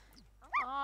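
A large pet dog in The Sims 4 gives a short bark with a whimpering, yelping tone, following faint quieter sounds, close and clear in the game audio.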